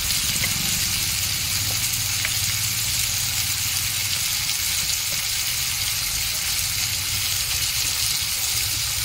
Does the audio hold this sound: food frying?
yes